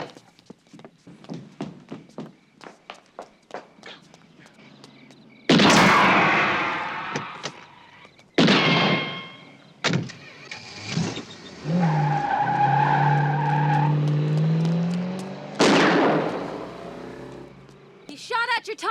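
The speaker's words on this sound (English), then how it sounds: "He shot at your tire." A gunshot is fired at a car tire, then the tires skid and squeal. A sharp, loud bang comes out of quieter clicking, and sustained tire screeches follow among further bursts of noise. A voice is heard at times.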